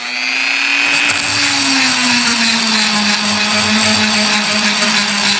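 A chainsaw chain being sharpened with a powered tool, a loud steady high whine with a sustained tone that starts up after a short quiet moment and holds without a break throughout, with no talking.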